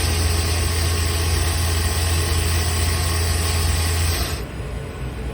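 The sub spindle of a 2017 Tsugami B0325B-II CNC lathe spins at 6,000 RPM, making a loud, steady mechanical hum and whine that drops off and quiets near the end.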